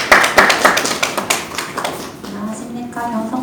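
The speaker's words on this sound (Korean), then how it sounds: "박수 한번 부탁드리겠습니다." Applause from an audience at a social enterprise business briefing, brief and close with sharp clustered claps in the first two seconds, then giving way to a speaking voice.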